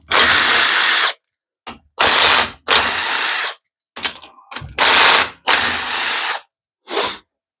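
A ratchet backs out 8mm bolts holding the valve body on a Ford F150's 4R70W automatic transmission, giving about seven close, loud bursts of rapid clicking separated by brief pauses.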